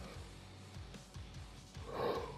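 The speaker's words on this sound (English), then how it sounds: "I literally yawn the same time every night" A single human yawn, faint and close, builds into a breathy, drawn-out exhale near the end, with a low background hum and no talking.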